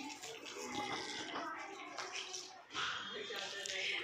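Rainwater streams across a rooftop like a small river, a continuous splashing, rushing flow close by, with a voice talking over it.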